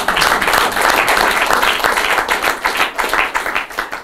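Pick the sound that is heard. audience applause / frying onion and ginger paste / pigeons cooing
audience applause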